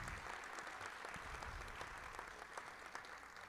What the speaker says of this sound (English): So let's give Misty a round of applause for everything she does.